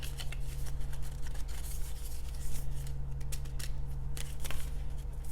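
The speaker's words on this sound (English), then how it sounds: "and then I'll trim the cover" Scissors trim the folded paper cover of a handmade pamphlet book, a run of crisp close snips and rustling paper cuts, quiet and alone with no talking.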